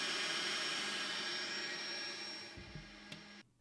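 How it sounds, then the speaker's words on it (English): Steady broadband whir of a Creality K1 Max 3D printer's part cooling fan and rear exhaust fan running at full speed, loud and constant, then cutting off abruptly near the end. "the additional part cooling fan and rear exhaust fan a bit loud when on full"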